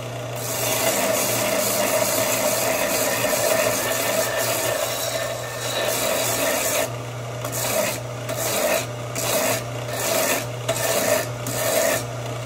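A file rasps steadily over the bevel of a Bowie knife blade, close and loud, first a continuous scrape, then regular back-and-forth strokes with brief gaps, over a constant low machine hum.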